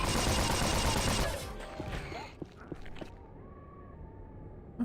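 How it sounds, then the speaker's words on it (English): A low-damage, medium-fire-rate pistol fires in the video game Unreal, with dense shots at first that thin out into a few scattered cracks against a quieter background. "Your only hit-scan option for quite some time is this low-damage, medium-fire rate pistol."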